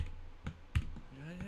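Typing on a computer keyboard, two or three distinct soft clacks close to the microphone, with a voice speaking at the end.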